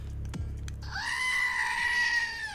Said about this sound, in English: Bring the goat out.